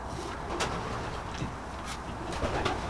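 Racing pigeon cooing softly in a loft, with a few brief coos and wing or body rustles over steady low background noise.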